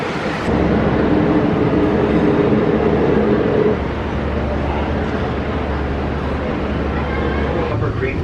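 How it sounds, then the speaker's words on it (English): Riding the Disney World monorail between resorts: a steady low rumble and rolling hum of the train interior, loud and continuous, easing slightly partway through as the ride continues. "and then got the monorail to our next stop"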